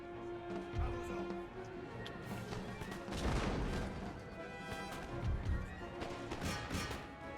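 Artillery volleys in the game Total War: Empire, a steady dense rumble of cannon booms and crashing impacts with repeated heavier thuds around the middle, layered over game music.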